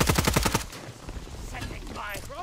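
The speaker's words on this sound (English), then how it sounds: "We're getting shot at from up above" Rapid automatic gunfire bursts in Call of Duty Warzone, loud and close for the first half second, then fading into scattered distant shots and game effects.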